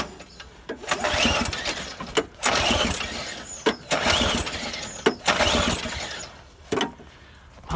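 A Briggs flathead snowblower engine trying to cold start at 11 degrees, with repeated bursts of sputtering, coughing engine noise cut by short pauses, close and fairly loud.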